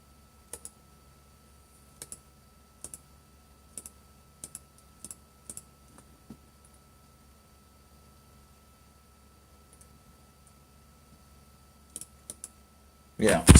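Computer keyboard typing heard faintly in a quiet room: scattered single key clicks and short bursts spaced irregularly over several seconds, with a louder bump at the very end.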